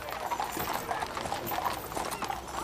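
Horses' hooves clip-clop steadily in a slow funeral procession, a continuous rhythmic clatter at moderate distance with a faint crowd murmur beneath.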